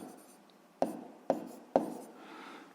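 Pen writing fractions by hand on paper in a sixth-grade maths exercise, three distinct close scratchy strokes spaced about half a second apart over a quiet room.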